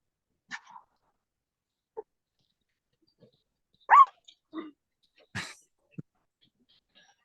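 A small dog gives a few short, scattered yaps at irregular gaps, fairly near, with quiet stretches in between and no talking.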